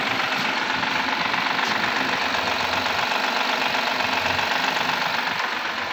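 A 2014 Honda Accord V6 engine running at cold start, with a steady, continuous mechanical knocking and ticking rattle over a constant idle drone, close and loud throughout, no talking.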